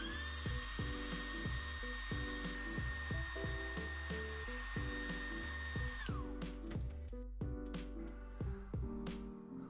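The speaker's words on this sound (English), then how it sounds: "I used a hairdryer to speed things up a little." A hairdryer blows a steady high whine onto wood being dried for a handmade carbon fiber and wood ring, over a rhythmic musical backing, then cuts off about two-thirds of the way through.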